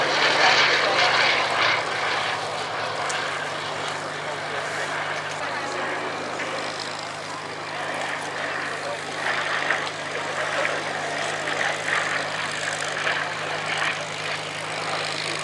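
A Bristol Blenheim Mark I, a short-nosed World War II bomber in fighter configuration, flies at the RAF Cosford Airshow 2018. Its piston engines and propellers give a steady, loud drone throughout, with a commentator's voice partly over it.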